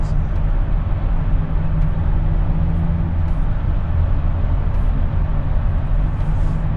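Exhaust note of a 2023 Nissan Z fitted with an HKS full dual muffler cat-back, a steady, loud, low rumble holding constant without pauses or voices.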